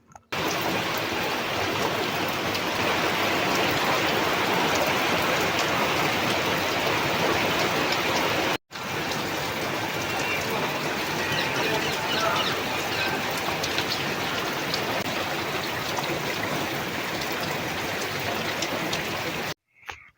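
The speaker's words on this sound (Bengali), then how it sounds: "আর এখন চলে এসেছে বৃষ্টি, তো বৃষ্টিটা আমি এনজয় করি" Steady rain falls with a dense, even hiss and patter that runs continuously at moderate level, broken by one very short dropout partway through.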